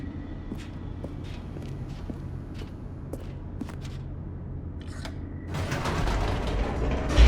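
An elevator in The Stanley Parable creaks and grinds as it descends. Its mechanism gives a steady low hum with intermittent metallic ticks and creaks, then swells into a louder rushing rumble near the end.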